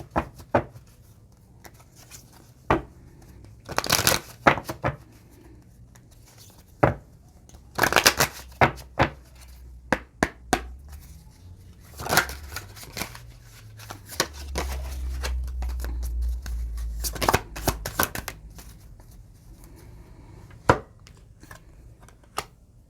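Tarot cards being shuffled by hand, with repeated bursts of riffling and card slaps at irregular intervals over a low background hum, close and clear, with no talking.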